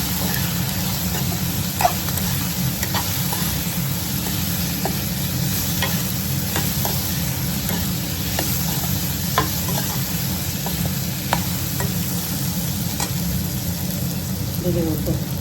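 Spices with turmeric and salt roasting in a hot pan, a dense continuous sizzle with scattered scraping ticks from stirring, loud and close under a low steady hum.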